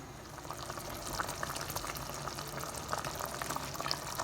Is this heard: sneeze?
no